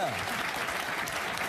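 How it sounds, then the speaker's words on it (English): Brief burst of audience applause on a studio talk show, a dense steady clatter of many hands lasting under two seconds, with a voice faintly audible over it. "Give them a big round of applause and stand up"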